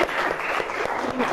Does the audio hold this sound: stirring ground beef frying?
no